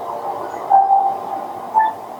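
A metro train runs along an elevated line in Hyderabad at night, a steady rumble with a couple of brief swells, heard from a moderate distance.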